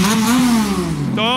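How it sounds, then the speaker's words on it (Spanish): Kawasaki Z1000 and Yamaha MT-09 motorcycles at a quarter-mile drag race, one engine revving hard and close, a single rising and falling roar with a brief sharper blip at the end. "¿Cómo suena la Z1000? ¿Cómo suena la MT-09?"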